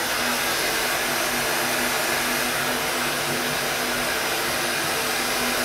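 A heat gun blows hot air to soften 3M film for removal. It makes a loud, constant rushing hiss with a faint hum underneath, steady and close throughout, with no speech.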